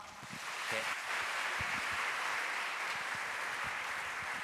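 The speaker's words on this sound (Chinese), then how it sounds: "我们再次热烈鼓掌，好不好？" A church congregation applauds during a Sunday service at a holiness church: steady, dense clapping swells within the first second and holds loud and even to the end, with no voices over it.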